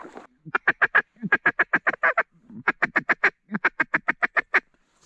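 Teal ducks call in quick, rhythmic runs of sharp quacks, several bursts of rapid repeated notes, fairly close and clear on public hunting land.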